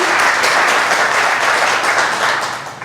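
Audience applause at a Gwinnett County community celebration, a steady wash of many hands clapping that holds for a few seconds and then begins to fade.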